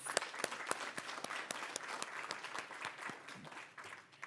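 An audience at a BC transportation update event applauds steadily for several seconds, many hands clapping in a dense, even patter without voices on top.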